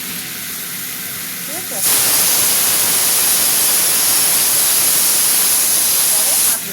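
A pressure cooker holding cut mango for chutney lets out a sudden loud, sustained hissing steam whistle that runs for several seconds at close range before cutting off, with a brief voice just before it.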